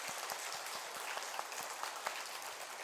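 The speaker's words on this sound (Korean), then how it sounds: "우리 하나님께 영광의 박수를 돌리겠습니다." A church congregation gives a round of applause, a dense, fairly distant patter of many hands clapping steadily with a few sharper individual claps standing out, and no talking.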